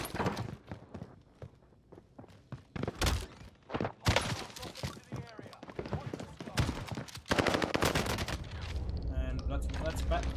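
Model 680 shotgun blasts from a Warzone match on Rebirth Island, several sharp booming shots spread irregularly through the clip amid other game gunfire, footsteps and effects, with someone talking over the action.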